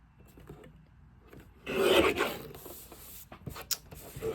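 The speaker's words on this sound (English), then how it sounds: "let's trim this piece off" Paper for a 7x7 cinch-bound mini album being trimmed, a single rasping cut that swells near the middle and then fades, close and fairly quiet with no talk over it.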